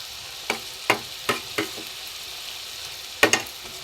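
Onion, garlic and ginger paste frying in a pan, with about six distinct spatula scrapes and stirs ringing out at uneven intervals over a steady, fairly loud sizzle.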